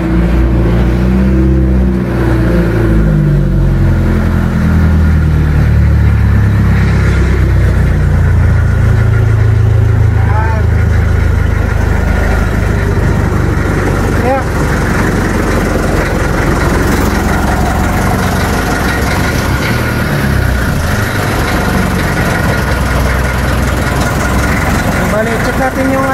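A 2024 double-engine bangka's motor runs steadily and loud, a continuous low throbbing drone that holds throughout with slight shifts in pitch, while people talk over it.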